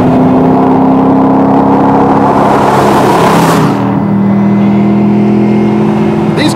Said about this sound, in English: you come down a couple of gears and stand on it. And you've got yourself a 500 horsepower barn burner